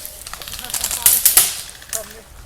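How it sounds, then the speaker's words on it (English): Airsoft guns fire in quick bursts and single pops during an outdoor skirmish at a lake, a cluster of sharp snaps peaking mid-clip with a faint voice underneath. "They're taking heavy fire."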